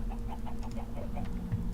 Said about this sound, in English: And we got our chickens in there.